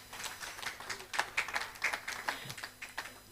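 Workshop audience in a hall clapping in a loose, uneven patter of individual hands, moderately quiet with irregular rhythm, some voices and faint tones underneath.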